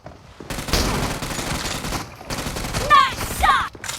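Automatic gunfire in the BGMI battle royale game, a loud close fusillade of rapid shots in sustained bursts, with brief game sound effects near the end.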